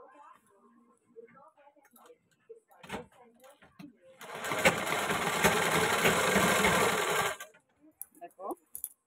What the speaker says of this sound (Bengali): এখন এটাকে আমি সুন্দর করে সেলাই করে নেব